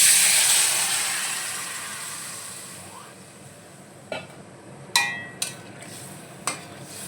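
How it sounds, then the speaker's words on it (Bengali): Water poured into a pan of frying live jiol fish, starting with a loud hissing sizzle that gradually fades, followed by a few sharp clinks of utensils against the pan. "এবার আমি জল দিয়ে দেবো।"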